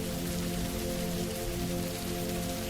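Gentle, steady rain patters evenly on surfaces in a soft, constant hiss with a faint low hum beneath, and nothing else stands out.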